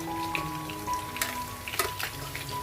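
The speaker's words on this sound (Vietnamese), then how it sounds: "chiên nhẹ được rồi." Cartilage sausage frying in hot oil, a soft steady sizzle broken by scattered sharp pops and crackles, fairly quiet and close, with no talking.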